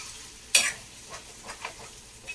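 A spoon stirs a sizzling dried fish, potato and brinjal curry in a pan, with one sharp scrape followed by softer, quieter stirring strokes at a moderate distance.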